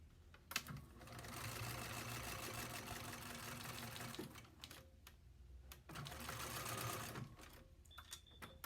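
A sewing machine stitching a seam in fabric runs in two steady, buzzing bursts of about four seconds and two seconds, with a short pause and some clicks between them, at close range.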